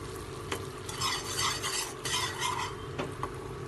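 White sauce stirred continuously in a pan over a low flame, soft even sizzling with repeated scraping strokes of a spatula and occasional light metal taps, fairly quiet and close, no speech.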